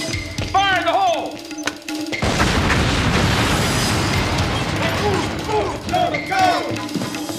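A demolition charge set off after a shouted warning, a heavy loud blast with a long rumbling roar that follows a few seconds of shouting and then fades as voices return.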